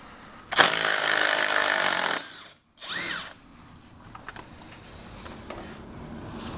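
A power drill bores into a door frame during a front door replacement: one loud, close burst of about one and a half seconds, then a short whirring rev and faint scraping and handling sounds.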